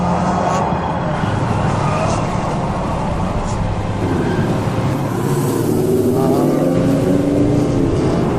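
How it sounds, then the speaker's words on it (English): A high-speed car chase roars past with engines revving hard and tires gripping pavement, a loud continuous motor drone shifting in pitch throughout. "Engines revving, tires gripping the pavement."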